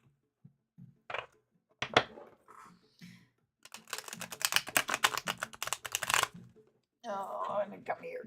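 A deck of tarot cards is shuffled by hand, a rapid riffling flutter of cards lasting a few seconds between bursts of someone talking, with softer card handling before it.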